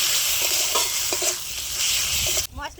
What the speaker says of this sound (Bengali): মশলাগুলো ভালোভাবে ভেজে নিয়েছি